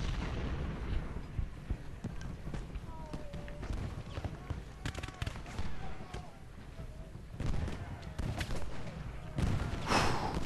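Booming artillery fire on a Gettysburg battlefield in Ultimate General: Gettysburg, scattered thuds and blasts over a busy background of battle noise, with a heavier cluster of shots near the end.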